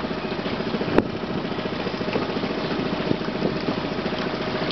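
An outboard boat motor runs steadily at close range with a continuous droning hum and a brief sharp knock near the start, on a vessel that struggles in shallow water over mud, sand and shells.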